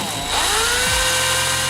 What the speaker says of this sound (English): So I went ahead and drilled a bigger hole